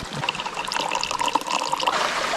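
A brook trickles down a Vermont valley, with water splashing over shelved gravel and stones in a steady, close, bubbling flow and no voices.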